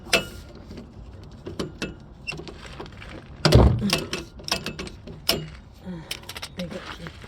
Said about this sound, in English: I'm just gonna put my wrench on and begin to